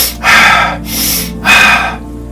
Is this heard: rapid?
yes